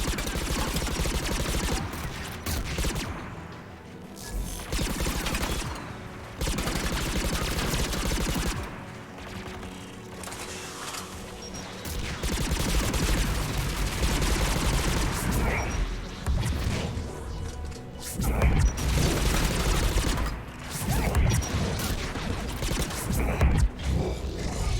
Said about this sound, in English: AA guns ahead.